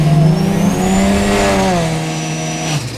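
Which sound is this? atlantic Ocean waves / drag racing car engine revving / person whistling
drag racing car engine revving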